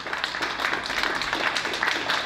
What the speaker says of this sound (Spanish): Dáselo fuerte ese aplauso a Cristo